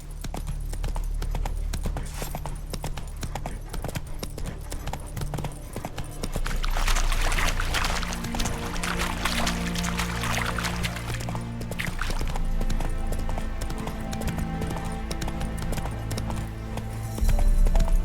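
Horse hooves clip-clop in a steady rhythm in The Witcher 3, sounding close and continuous under a background music score, with a brief rise in activity partway through.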